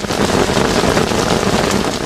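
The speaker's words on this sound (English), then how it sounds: "This sound of rain and its accompanying breeze sends many to sleep" Steady rain falls with a light breeze, a dense, even hiss of drops on surfaces that stays close and loud for the whole stretch, with no voices.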